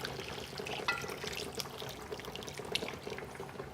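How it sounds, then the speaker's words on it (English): Two cups of water pour into a pan of browned chicken, a steady splashing trickle with a brief brighter gush near the start, close and fairly quiet. "Now we want to add some more water."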